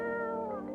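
A cat character in a video game gives a single drawn-out, close and clear meow that sustains evenly for under a second with no talk over it.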